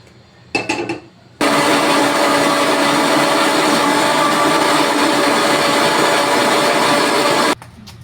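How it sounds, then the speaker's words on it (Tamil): A short burst of blending, then a loud, steady whirring grind as a mixer grinder blends soaked ingredients into a smooth paste, running for several seconds before cutting off abruptly. "நம்ம மிக்ஸி ஜாருக்கு போட்டு நல்லா மை போல் அரைச்சி எடுக்கணும்."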